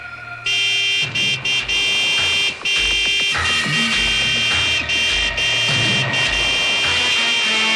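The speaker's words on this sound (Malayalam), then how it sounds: "നീ ഹോൺ അടിച്ച് വണ്ടി വിട്" A car horn blares loudly and almost without pause for several seconds, with brief gaps and restarts, standing out over traffic noise on a street.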